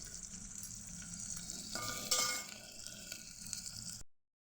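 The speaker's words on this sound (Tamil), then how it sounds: "வெங்காயம் எல்லாமே நல்லா வதங்கினதுக்கப்புறம் தக்காளி பழத்தை சேர்த்துக்கிட்டேன். இப்போ இதையுமே நல்லா வதக்கிக்கலாம்." Chopped onions and tomatoes sizzle in a hot pan with a steady, close frying hiss, broken by a louder scraping stir partway through, and no voices before the sound cuts off abruptly.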